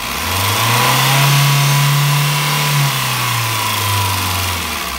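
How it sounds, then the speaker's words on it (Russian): A Kia Picanto's 1.0-litre G4HE petrol engine holds steady near 3000 rpm, a loud, continuous mid-pitched drone with a slight dip in pitch partway through and no voices. "Работа двигателя 3000 оборотов."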